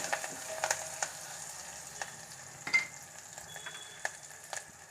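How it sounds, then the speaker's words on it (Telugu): Onions and curry leaves sizzle steadily in a pan, with soft scraping stirs and occasional clicks of the spoon against the metal, close and moderately quiet. "కరివేపాకు కూడా వేసి కొంచెం కలియపెడదాము"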